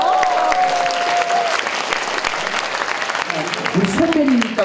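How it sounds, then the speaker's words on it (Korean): Audience applause at a university graduate talk concert, a dense burst of clapping from a large crowd sustained throughout, with a host's amplified voice speaking over it near the start and again toward the end. "박수!"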